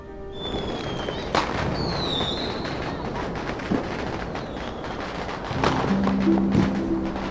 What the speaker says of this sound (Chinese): 你看这些烟花多美啊！